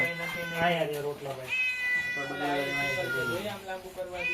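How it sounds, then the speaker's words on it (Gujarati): A cat meows repeatedly and close by at an outdoor farm meal. The drawn-out, wavering cries come in two clear bursts, with people's voices mixed in around them. "મીંદડી આવી ગઈ ખાવા."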